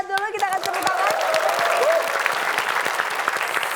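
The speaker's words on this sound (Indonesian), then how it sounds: "kita kasih tepuk tangan" Studio audience at a television quiz show applauding throughout, dense steady clapping with a voice briefly audible at the start.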